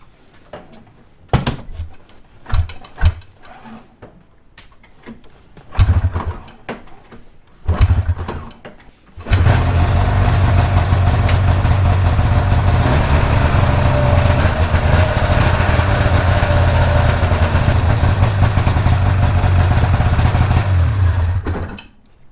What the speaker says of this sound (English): after a few pulls to get the fuel through the system, the sled is starting and running the way that it should